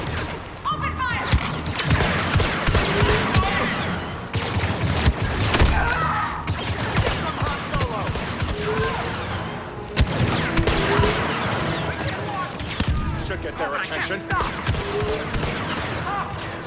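Blaster gunfire from stormtroopers in Star Wars Battlefront II, with dense, continuous volleys of sharp zapping shots and crashing impacts over a loud battle din, and shouting voices mixed in.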